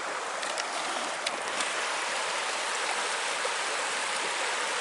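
Mountain trout stream in Virginia rushing steadily, a dense continuous wash of flowing water heard up close with no talk over it.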